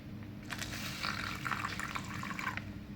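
Water pours faintly into a soap bubble mixture of hand wash or detergent, a soft splashing trickle lasting about two seconds over a low background hum.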